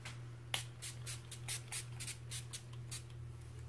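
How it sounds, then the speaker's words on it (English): Quiet NYX Dewy Finish setting spray misting in a quick series of short pumped bursts, fairly close, over a low steady hum. "spray with my NYX Dewy Finish Spray just to finish it all off"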